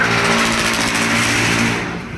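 A 2018-model motorcycle engine with a hard-starting, stalling problem revs steadily and loudly up close, holding a continuous mid-pitched roar before easing off slightly at the end.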